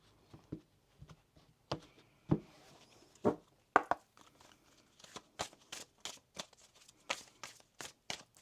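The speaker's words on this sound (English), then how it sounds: "One more shuffle here, please" Tarot cards being shuffled during a reading, a series of crisp riffling and slapping bursts that come in irregular clusters, close and fairly quiet, with no talking.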